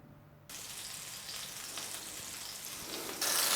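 Zander fillet frying in a pan that was started cold and has now heated up, a steady close sizzle that grows slightly louder and brighter over a few seconds, with no talking.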